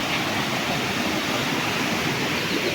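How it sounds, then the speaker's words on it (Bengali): A waterfall and stream flow below a cave path, giving a steady, loud rushing roar of water that stays even throughout, with no voices. "এটা কিন্তু ঝর্ণার আওয়াজ। এই যে নিচ দিয়ে বয়ে গেছে।"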